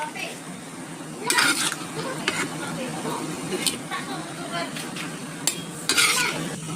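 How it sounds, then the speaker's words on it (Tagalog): Pork pieces being transferred into a pot of already boiling water for pork sinigang, with clattering pot and utensil clinks over a steady bubbling boil, and sharp metallic knocks around the middle and near the end. "It's already boiling, so we can transfer our pork."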